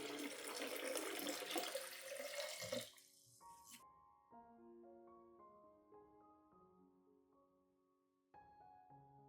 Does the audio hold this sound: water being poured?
yes